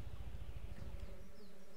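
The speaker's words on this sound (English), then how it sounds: "Now you got bees in the back buzzing" Bees buzzing in the video game Ranch Simulator, a faint low droning hum with a pulsing texture, fading slightly toward the end.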